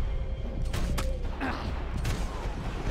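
Suppressed gunfire in the shooter Max Payne 3, a few muffled, sharp pops scattered over roughly three seconds against a busy background of mechanical clatter and noise.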